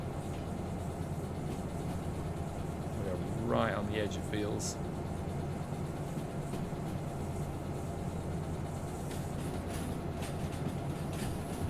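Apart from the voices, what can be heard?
locomotive engine straining on hill in Derail Valley video game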